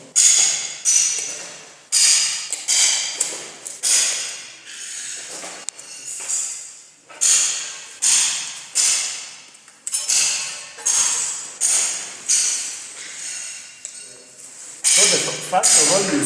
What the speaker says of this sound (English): So at that point is where you use your screws